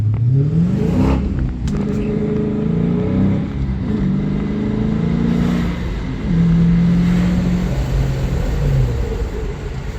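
A 6-speed manual Dodge Challenger SRT 392 pulls hard through the gears, its engine note climbing loudly, dropping at each shift, then climbing again, close and steady with no talking.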